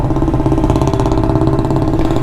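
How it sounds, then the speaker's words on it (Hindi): An old modified Royal Enfield Bullet motorcycle engine idles nearby with a loud, steady, thumping beat, continuous and alone without talk. "बुलेट की आवाज़ है।"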